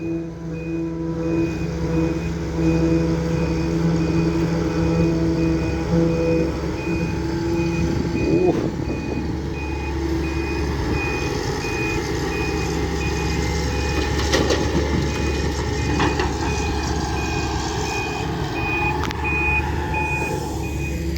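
A truck backing up sounds a steady, regularly repeating reversing beep over its low idling engine rumble, close and clear, with brief mechanical clanks in the middle.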